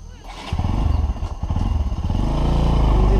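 Motorcycle engine labouring and nearly stalling on a muddy rural road in Bhojpur, Nepal, after light rain. It runs loud and close, with an uneven, sputtering low rumble that sags and recovers, plus some clatter and thuds.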